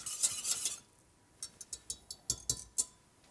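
A whisk works through sauce espagnole in a pot, first as a steady brushing swirl, then as a run of quick, separate metallic clinks against the pot's sides, close and moderately quiet with no voices.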